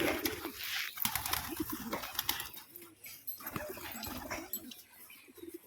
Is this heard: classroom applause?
no